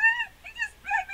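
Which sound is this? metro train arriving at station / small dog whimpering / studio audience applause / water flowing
small dog whimpering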